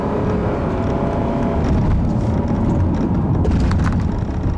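A 2015 Toyota Camry Hybrid SE is driven hard along a twisty back road, giving a steady, loud broadband rumble of engine and road noise that swells slightly midway, with no talking.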